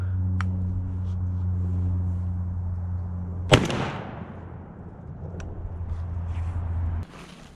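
A single loud blast from a Browning Maxus shotgun firing a 3.5-inch Winchester magnum buckshot load outdoors, with a sharp report that rings and decays over a low steady background hum.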